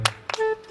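Two quick, sharp hand claps spaced about a quarter second apart, near and fairly soft, followed by a faint tonal ring.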